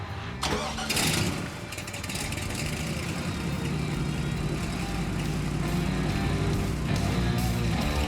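A Land Rover Defender engine cranks and catches, then settles into a steady, throaty idle heard up close for several seconds.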